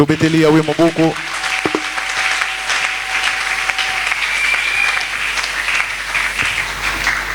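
A church congregation bursts into loud, sustained applause and acclamation after a brief spoken line, the clapping dense and continuous throughout.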